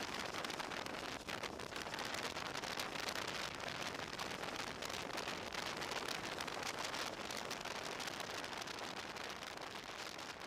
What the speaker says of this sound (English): the rain remains a slow drizzle